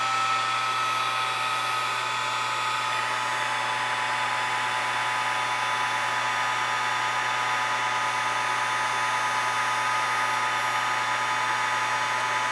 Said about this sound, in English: we want to actually heat emboss this